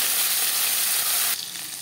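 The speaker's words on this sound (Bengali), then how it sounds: "তেল গরম হয়ে গেছে, এবার দিয়ে দেবো ম্যারিনেট করে রাখা মাছ।" Marinated fish frying in hot refined oil, a steady close sizzle and crackle that drops slightly in level near the end, with no voices.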